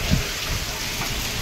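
Heavy rain pours down steadily in strong wind, a dense, unbroken hiss of falling water with no voices, heard for just over a second.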